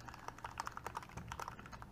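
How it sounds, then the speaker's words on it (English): Typing on a wired Keychron K2 mechanical keyboard gives a quick, uneven run of crisp clicky keystrokes, close but fairly quiet, with no talking over it. "It's Keychron, isn't it? But this is it's a wired mechanical keyboard. And listen to,"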